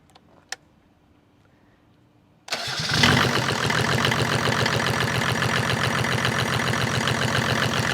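A diesel engine with no lift pump cranks and fires, then settles into a steady loud rhythmic idle after a few quiet clicks beforehand.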